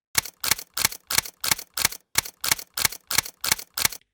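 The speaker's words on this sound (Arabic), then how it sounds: "كده مش ناقص غير إن إحنا نحط الكاميرا shutter" Twelve crisp camera shutter clicks from a sound effect, evenly spaced at about three per second. Each is a sharp, close mechanical snap with no other sound behind it.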